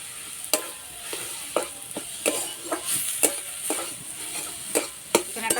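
Cauliflower sizzling with turmeric, cumin, chilli and garam masala powders in a pan, stirred with regular scraping strokes about once a second over a constant close frying hiss.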